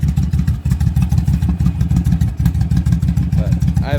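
A motorcycle engine with custom aftermarket exhaust pipes idles loud and close, a steady throbbing, lumpy rumble with clattery pulses throughout.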